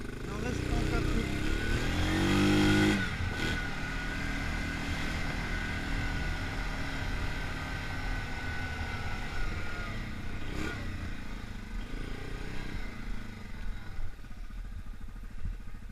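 A Yamaha Grizzly 550 ATV engine labors through a deep mud bog full of water, droning steadily with a rev surge early on. Someone talks in French over the engine.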